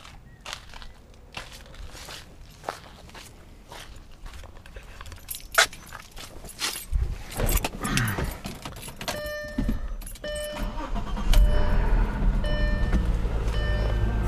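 Keys jangle near a 2003 Audi A4 B6 with a 3.0 V6 and six-speed manual, then the engine cranks and settles into a low, steady idle while dashboard chimes repeat.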